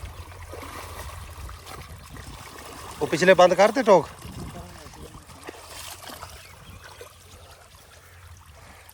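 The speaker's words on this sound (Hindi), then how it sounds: "ये पानी इन क्यारों में आ गया है दोस्तों।" Irrigation water runs steadily into field beds, a low continuous rush of flow that carries on beneath a short burst of someone speaking.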